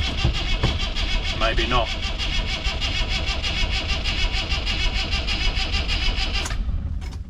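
A Land Rover Series III diesel engine cranks steadily and fails to catch, a continuous loud mechanical churn running nearly the whole time before cutting off near the end, with a brief voice speaking over it.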